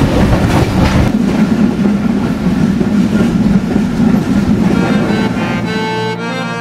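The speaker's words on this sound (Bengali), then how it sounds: "এটা একটা ব্রডগেজ ট্রেন, আর ব্রডগেজের কাছ থেকে আমরা অত্যন্ত আশা আমাদের বেশি থাকে।" The Banglabandha Express, a broad-gauge intercity train of Bangladesh Railway with old coaches, runs loudly along the track with a continuous heavy rumble and rhythmic clatter of wheels.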